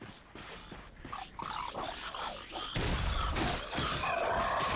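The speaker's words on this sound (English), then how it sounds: "Look at him smashing crates." Crates being smashed in the Ratchet and Clank video game, a series of wooden cracks and crashes over busy game sound, with a louder burst of breaking near the end.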